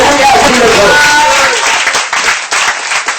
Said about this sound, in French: Est-ce qu'on peut donner un tonnerre d'acclamation?